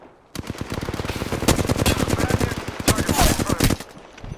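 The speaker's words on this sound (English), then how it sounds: "Shots fired and they're hitting me." Loud, close automatic gunfire in the video game Apex Legends, a long rapid burst of evenly spaced shots lasting several seconds before tapering off, with no talk over it.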